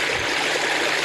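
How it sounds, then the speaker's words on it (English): Water runs through swales toward recycling ponds at an unconventional home, a loud, close, continuous rushing stream with steady gurgle. "it all flows down into our recycling ponds"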